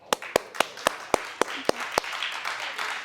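Several sharp hand claps from one person ring out in an uneven rhythm, about eight in the first two seconds, close and fairly loud, then give way to a quieter background murmur.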